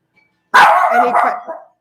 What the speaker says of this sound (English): Sorry about my dog, because we're just getting a delivery.